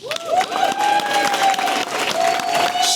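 Audience at a chamber of commerce awards gala applauds steadily and loudly for about three seconds, a continuous wash of many hands with some cheering, while a sustained tone rings through the room.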